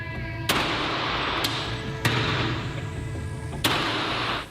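Gunfire is exchanged in news footage, with four sharp, loud shots spaced a second or more apart ringing out over a constant low rumble of engines and background noise.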